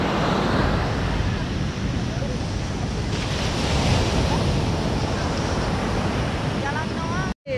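Ocean surf at a beach in Bali washes in continuously and loud, with heavy wind buffeting the microphone, before a sudden cutoff at the end.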